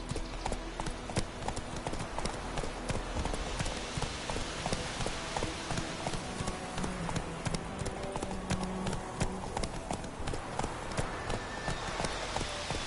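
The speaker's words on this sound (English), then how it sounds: "Giddy up. Come on, Roach" A horse in The Witcher video game gallops with rapid, steady clip-clop hooves throughout, moderately loud against a dense game backdrop of music and ambience, with brief speech here and there.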